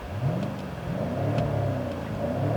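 A 2018 BMW M5's V8 engine hums and revs from inside the cabin, its synthesized, muffled tone rising and falling steadily.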